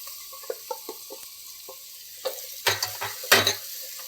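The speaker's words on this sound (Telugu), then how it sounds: "ఉల్లిపాయలు వేగినాయి కదండి ఇప్పుడు మనం కట్ చేసుకున్న బీరకాయ ముక్కలు వేసుకుందాం" Ridge gourd pieces going into a pan of frying onions with turmeric, a soft background sizzle broken by light utensil taps, then louder bursts of spattering and clattering as the pieces are added and stirred.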